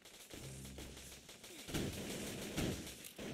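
Rapid bursts of automatic gunfire from a video game play at moderate volume, in rough clusters separated by brief gaps.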